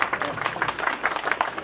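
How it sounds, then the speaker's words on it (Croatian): A crowd claps to welcome an embassy delegation at an outdoor memorial gathering in Gornja Rovna on a rainy day, with a steady patter of many hands sustained throughout at moderate distance. "da ih poselamimo sa jednim aplauzom"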